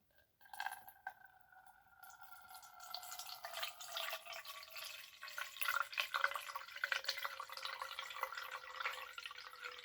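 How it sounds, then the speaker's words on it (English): Small amount of water slowly poured into a bowl during a child's handwashing activity, a steady trickle with faint clinks and drips building over several seconds, no talking. "showing them how to slowly pour it into the bowl"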